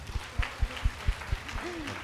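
A small congregation at a Lenten prayer service claps in a slow, sparse, fairly regular rhythm, about seven distinct claps at moderate distance, with a brief faint vocal sound near the end.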